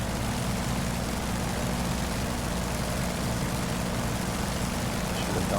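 An F4U Corsair's propeller engine drones steadily during inverted flight in the DCS combat flight simulator, a loud, continuous low rumble without pauses or voices.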